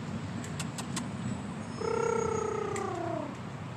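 A cat outdoors near a police detachment on Vancouver Island gives one drawn-out, falling meow lasting over a second, fairly close, over a low steady background hum.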